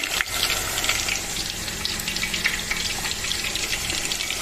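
İzmir köfte meatballs fry in a pan with a steady, dense sizzle and crackle that runs without a break, close and moderately loud.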